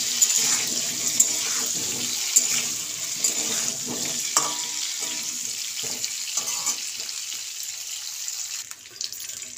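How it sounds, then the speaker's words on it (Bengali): Potato pieces with turmeric and salt frying in mustard oil in a kadai: an even, continuous sizzle close up, broken by light clinks and scrapes of stirring, no talking. "এবার আমি আলুগুলোকে ভালো করে ভেজে নেব।"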